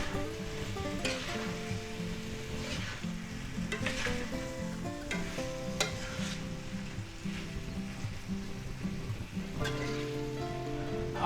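Cooked roast beef being stirred into a sizzling pan of mixed vegetables and mushrooms for a chop suey-style stir-fry, with a steady close sizzle and intermittent scraping stirs throughout, no talking.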